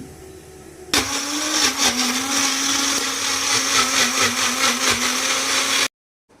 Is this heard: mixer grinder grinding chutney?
yes